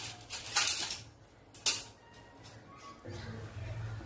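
A metal spoon stirs jaggery into a glass of tea. Two bright clinks ring out early, followed by softer scraping, and a low murmur of voice enters near the end.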